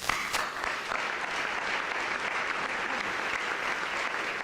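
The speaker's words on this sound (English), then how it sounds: "please join me in giving all of our sponsors a round of applause" Audience at a community forum breakfast claps for the event's sponsors, an even, sustained round of applause with many hands blending, plus a couple of sharper individual claps early on.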